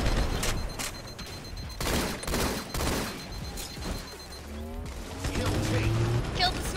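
Rapid gunfire bursts and mechanical weapon clatter in the Halo 2 Anniversary multiplayer game, aimed at a Hornet aircraft, dense and continuous with a player talking over the shooting.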